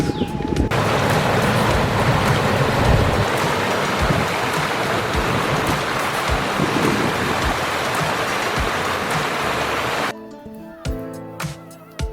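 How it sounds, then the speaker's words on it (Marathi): Steady rushing water, loud and close, a rain-swollen monsoon stream gushing continuously along the Panhala to Pavankhind route with a dense wash of noise, fading to quieter tones near the end. "हे असे ओढे नाले पावसामुळे सगळीकडे खळखळून वाहत होते"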